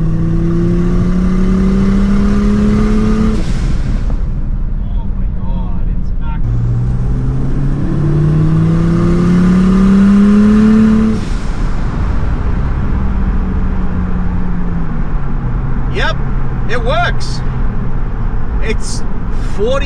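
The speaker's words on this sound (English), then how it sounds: "we're gonna go for a little drive, do a couple of little pushes, see how the car wants to behave." A Ford Falcon XR6 turbo with a Barra engine drives and accelerates hard, its engine note rising through repeated gear pulls, loud and close from inside the car, with speech heard over parts of it.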